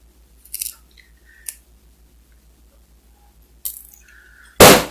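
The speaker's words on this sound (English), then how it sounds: "this is a good spot right where these 2 wires cross to snip it off" Wire snipped with cutters while making a Viking knit chain: a few short, sharp metallic clips spaced across a quiet stretch, ending in a louder burst of handling noise, with no talk.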